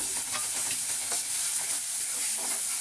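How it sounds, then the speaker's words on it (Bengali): Spice paste being stirred and sautéed in a pan for a taro-stolon curry: a steady close sizzle with soft scraping strokes, continuous and even, no voices. "ভালো করে কষিয়ে নিচ্ছি এই মশলাটা"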